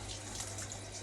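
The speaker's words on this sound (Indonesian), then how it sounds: "Kita membuka keran" Faucet opened at a sink for washing, water running in a steady broad hiss, soft and continuous without interruption.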